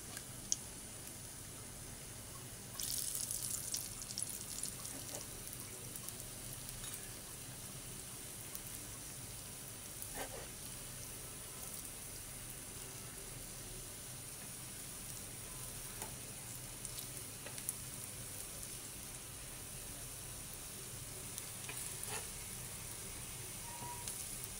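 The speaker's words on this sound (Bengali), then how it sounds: "ভাজা হচ্ছে গরম গরম পেঁয়াজু" Bengali lentil fritters (dal peyaju) deep-frying in hot oil give off a faint, steady sizzle with a soft hiss and occasional small pops, continuous and low throughout.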